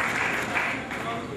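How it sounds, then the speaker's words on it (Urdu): An audience at an evening event with a gold medallist claps continuously, a steady wash of many hands applauding at moderate loudness. "بہت ساری تالیاں ارشد جاوید صاحب کے لیے اور بہت ساری دعائیں ان کے لیے."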